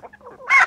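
Hens clucking in a backyard flock in spring, a short close burst of throaty clucks rising into a louder squawking call.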